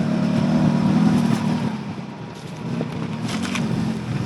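Engine drone inside Sumit's car on the road to a luxury villa picnic, a steady close rumble that dips briefly and swells again, with no talk.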